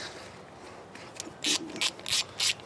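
A hand ratchet tightens the carburetor screws on a Briggs & Stratton 500E Series 140cc push lawn mower engine, giving faint scraping and then several quick, close bursts of sharp clicking.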